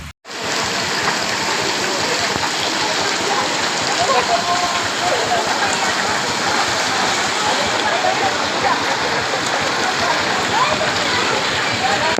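Steady, loud rain pours down on the streets and lanes of Lahore's neighbourhoods, with water rushing and splashing in a dense, unbroken hiss that fills the whole stretch.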